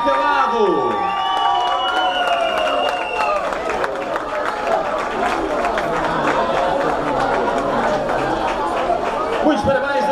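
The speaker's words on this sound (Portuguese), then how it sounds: "Um aplauso para ele." Crowd applause and cheering at a prize-giving for the Cortejo Trapalhão carnival parade in Funchal, with loud, dense clapping and shouts sustained throughout under a steady murmur of voices.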